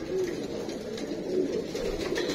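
Teddy pigeons at a breeder's loft coo in a steady, overlapping chorus, low burbling calls continuing throughout at close range without any talk.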